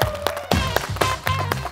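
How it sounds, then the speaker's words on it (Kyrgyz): An audience at a televised couples' game show claps for the contestants, with short bursts of clapping and thumps rising and falling over about two seconds. "Куттуктайбыз, бир кол чаап коюңуздар."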